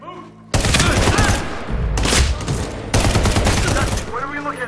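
Dense bursts of automatic gunfire in the Medal of Honor video game, loud and close, coming in several sustained volleys with brief lulls between them, with faint voices at the edges.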